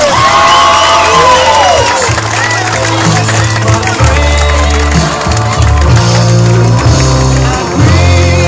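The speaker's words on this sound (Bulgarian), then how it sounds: "Аплодисменти, дами и господа" A large crowd cheers and applauds at the winner announcement of a young European truck driver competition in Bulgaria, loud sustained clapping and shouts with music and a voice over a public address system.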